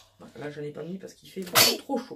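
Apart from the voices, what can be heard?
sneeze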